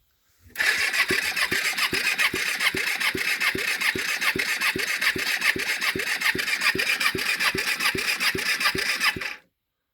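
A 2006 Kawasaki Ninja EX250R engine cranks over steadily on the starter during a compression test on cylinder one, a fast, even chugging rhythm of about two dozen strokes that runs loud and close for roughly nine seconds before cutting off.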